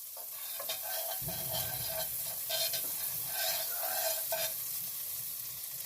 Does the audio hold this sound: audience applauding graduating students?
no